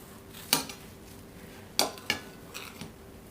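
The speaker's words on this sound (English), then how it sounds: "I got just a serrated knife so that slicing it will be easy" A serrated knife cuts through a loaf of apple bread with pecans, producing a few sharp clatters and rasping strokes against the board, close and fairly quiet, with gaps between cuts.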